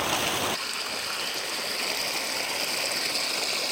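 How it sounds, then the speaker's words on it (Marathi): Hot spring water at Unhavare, Dapoli, pours continuously from a scalding spring outlet into the river, a steady, loud rushing gush that fills the whole clip with no voices. "एवढं पाणी नदीत काय कंटिन्यू उन्हाळ्यात पावसाळी चालू आहे"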